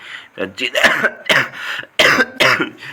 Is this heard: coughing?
yes